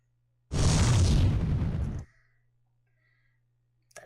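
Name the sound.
Fire spell cast in video game Final Fantasy 4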